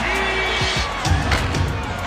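Basketball arena crowd at an NBA game with Shaquille O'Neal, a steady roar of cheering with whoops and a few sharp slams swelling in the second half, mixed under voices.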